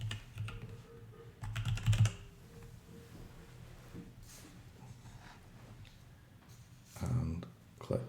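Keys on a computer keyboard are typed in short bursts of close, light clicks, with a louder cluster near the start and another near the end. A person speaks over the quieter stretches between them.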